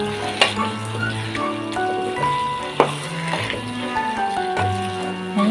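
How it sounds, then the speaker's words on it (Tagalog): Eggplant sizzles steadily as it fries in a pan while a utensil stirs and scrapes, with a few clear clanks against the metal, close up. "Ayan, haluin natin siya."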